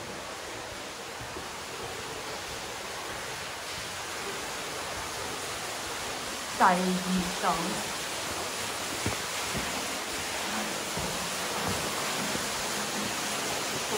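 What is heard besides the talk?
small waterfall water sound in stalactite cave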